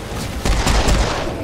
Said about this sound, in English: Motherfucker's launching grenades at me.